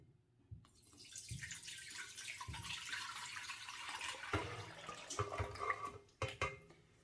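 Liquid flapper pie filling mixture poured from a bowl into a pot, a soft continuous splashing pour that swells and then tapers with a few clinks and drips, fairly quiet and close.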